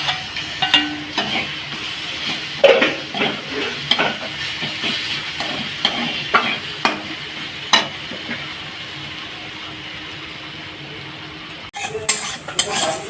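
Ginger paste sizzles as it fries in a pan and a spoon stirs it repeatedly, scraping and tapping against the metal over a steady frying hiss.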